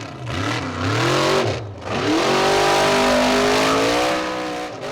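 A formula offroad car's engine revs hard while struggling up a steep hill climb, loud and close, with rising and falling pitch through repeated throttle bursts and a sustained high whine.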